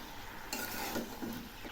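Vegetables for a broad bean and potato chorchori, seasoned with turmeric, fry on low heat while being stirred, making quiet sizzling under short scraping stirs that come about every second, with no talking.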